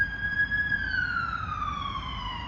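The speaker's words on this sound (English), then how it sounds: "sorry there's an ambulance going past because I'm in the woodland next to the main road" An ambulance siren wails along a main road beside woodland, a steady tone that slowly falls in pitch as the vehicle passes, fairly loud over low traffic rumble.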